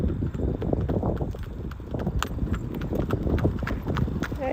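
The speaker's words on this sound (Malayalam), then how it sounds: "പോകുന്ന വഴിക്ക് കുറേ കുതിരവണ്ടീനെയും കണ്ടു." A horse-drawn carriage clip-clops along a country road in Ontario, the hooves beating a steady, brisk rhythm close by over a constant rush of wind and road noise.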